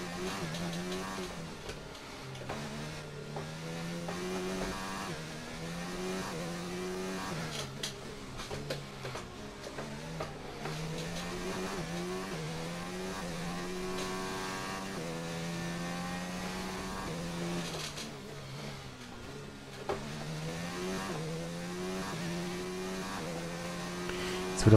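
A Formula 1 race car engine from the video game F1 2019, set at the Brazil track during practice, whines steadily with rising and falling revs and gear shifts, loud and continuous with no talking.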